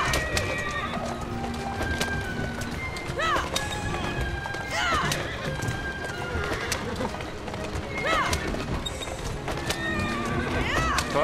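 A horse in the video game Assassin's Creed Syndicate neighs several times in loud, rising whinnies while hooves clip-clop beneath, set against game ambience with birds and cooing pigeons.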